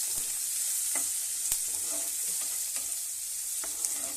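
Cashews frying in a pan while making vegetable vangibath, a soft continuous sizzle with occasional light stirring clicks, close by and fairly quiet, no voices.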